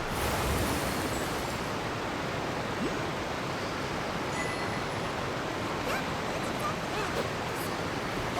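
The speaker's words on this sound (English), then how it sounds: "Water jet!" Rushing hydro water jet in Genshin Impact, a steady broadband spray like surf or a strong stream, continuous and loud throughout, with a voice faintly present beneath.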